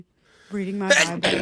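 A sneeze bursts out in the middle of close-up talk during a faith podcast recorded in a car, two sharp broadband blasts breaking through the speaking voice.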